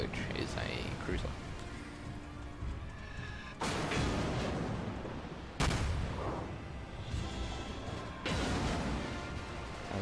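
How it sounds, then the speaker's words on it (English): Heavy naval gunfire in World of Warships, fired at a cruiser: several loud booming salvos crash in at spaced intervals over a rumbling battle bed, with a voice talking underneath. "I was laying some heavy fire into that cruiser."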